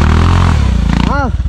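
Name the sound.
motorcycle engine shifting into first gear off-road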